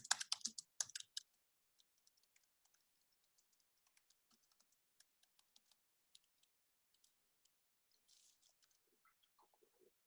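Computer keyboard typing, a quick burst of close, crisp key clicks at the start followed by sparse faint taps and a short flurry later, in an otherwise silent room.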